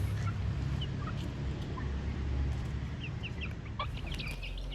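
KUB chickens cluck and chirp in a pen, several scattered calls over a steady low hum, with a busier burst of clucking toward the end.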